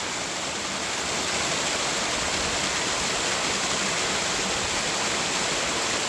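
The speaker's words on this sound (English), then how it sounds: "Right by the beautiful little creek and waterfall and the gorgeous view." A small creek and waterfall rushing steadily outdoors, a dense, constant broadband roar that holds even and fairly loud throughout, with no voices.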